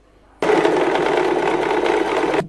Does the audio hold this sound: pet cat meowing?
no